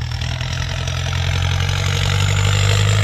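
A Massey Ferguson 5000 turbo tractor engine labours steadily while pushing soil, a loud, close, continuous low drone that holds constant throughout with no talking.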